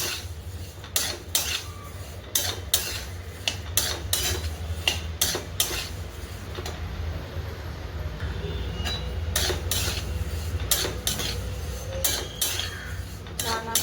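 Fennel seeds and white sesame seeds dry-roasting in a pan on low heat, with repeated soft clinks and scrapes of a spoon stirring against the metal over a steady low hum, close by and moderate in volume.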